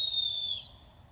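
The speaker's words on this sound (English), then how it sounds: "Blow that whistle again." A small whistle gives one thin, faint, steady tone that fades out after about half a second, heard at a distance.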